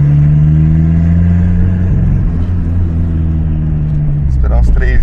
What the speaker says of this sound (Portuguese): Só tá fazendo barulho essa turbina.